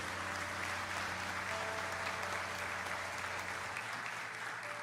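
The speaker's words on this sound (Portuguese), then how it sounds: "Vamos aplaudir o Senhor pela vida deles e glorificar o Senhor." Congregation applause at an Easter church service, a steady wash of clapping from a crowd that stays even and fairly soft throughout, with no voices on top.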